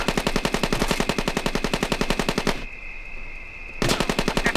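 Sustained automatic gunfire in the Rainbow Six video game, with rapid continuous bursts that pause briefly and then resume loudly.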